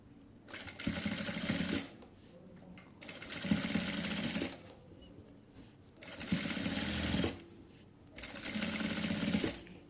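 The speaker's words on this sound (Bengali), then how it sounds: "তো এখন হচ্ছে আমি এই পাশ দিয়ে হচ্ছে একটি চাপ সেলাই দেব" A sewing machine stitches lace onto a kameez hem, running in four steady whirring bursts with short quiet pauses between them, close and loud.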